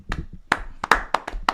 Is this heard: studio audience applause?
yes